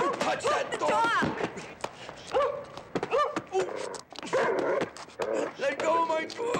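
In a chaotic film scene, a dog barks and whimpers amid a violent struggle, with thuds and frantic shouting voices mixed in. Its cries come in uneven bursts at moderate loudness.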